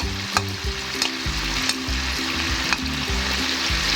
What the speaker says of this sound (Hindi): और अच्छी तरह इसको मिक्स कर लेंगे।